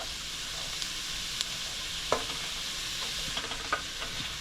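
Canned corned beef mixture with celery being stirred in a pan, a faint continuous sizzle broken by a few soft spoon scrapes and light clicks.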